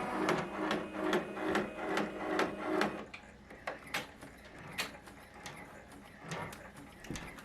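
An embroidery machine stitches a green organza sunflower coaster at its slowest speed, a steady rapid mechanical chatter for a few seconds that then gives way to sparser ticks and clacks, close and moderately quiet.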